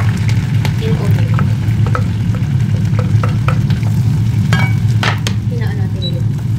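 Ginger, garlic and onion sautéing in hot butter make a loud, steady sizzle close up, with occasional spoon taps and stirring scrapes against the pan and no talking.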